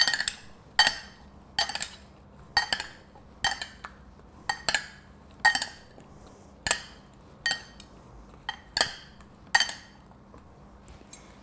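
Roasted pears and parsnips with honey and butter being tossed in a dish, giving a series of bright clinks and scrapes of a utensil against the dish, roughly once a second, close and fairly quiet with no talk.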